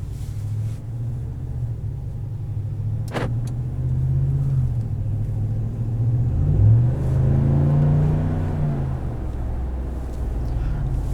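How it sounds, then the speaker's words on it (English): A 2021 Ram 1500 Longhorn pickup with a 5.7L eTorque engine drives along, a low steady engine drone and road rumble from inside the cab, rising briefly as it accelerates, with a short click near the start. "let's go for a drive."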